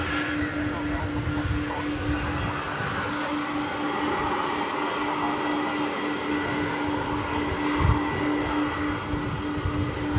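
An old 1987 Super Cargo Master airplane at DFW Airport at night gives off a steady, moderately distant engine drone with a constant hum running beneath it, with no speech.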